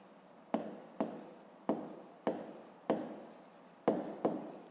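A pen writes on paper in a fifth-grade maths lesson, with a series of short scratchy strokes close up, about seven distinct bursts at a steady pace with quiet gaps.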